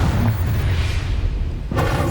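A loud, sustained roaring fire spell, Incendio, cast in the Hogwarts Legacy video game, a dense continuous blast that holds steady throughout before a brief flare near the end.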